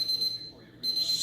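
A brewing timer alarm sounds on a home beer brewing day, a steady high electronic beep tone that drops out briefly and then returns, fairly faint against quiet room noise.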